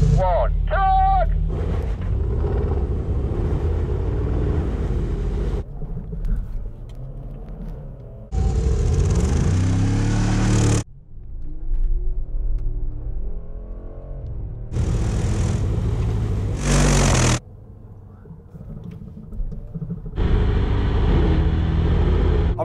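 A Mercedes G63 AMG and a Range Rover Sport SVR strain against each other in a muddy tug-of-war, with loud bursts of engine roar and spinning-tyre noise alternating with quieter stretches while voices talk over them.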